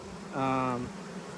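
A single honey bee flies near the microphone in a bee yard with beehives, a short close buzz of about half a second rising out of a quiet outdoor background.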